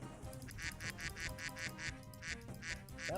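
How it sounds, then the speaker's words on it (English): Repeated duck quacks from a soundboard button, about eight short nasal bursts in a steady rhythm over low background music, quiet but distinct. "I found the duck button."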